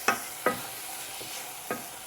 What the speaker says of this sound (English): I added the carrots to it, and I will let it fry for 1 minute too.